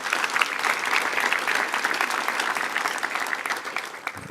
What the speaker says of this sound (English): Let's give the Dean a round of applause, ladies and gentlemen